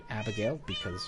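Pet cats in the Minecraft video game give a couple of close, clear meows in quick succession, with a person talking over them.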